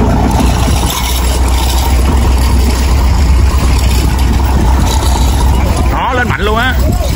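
A Vietnamese wooden boat's engine runs loud and steady after being started to push the boat, damaged in a ship collision, off toward a slipway. The engine drone continues unbroken, with people talking over it.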